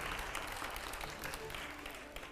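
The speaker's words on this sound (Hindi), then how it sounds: "जोरदार तालियां हो जाए एक बार" Applause from a studio audience at a Hindi TV quiz-style show, a steady wash of clapping at moderate distance with a host's voice faintly mixed in.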